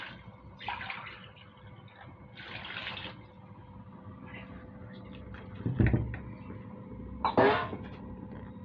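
Water poured into a pot of rice for paneer biryani, a splashing stream that runs in short bursts with a cough and a clatter near the end, no talk.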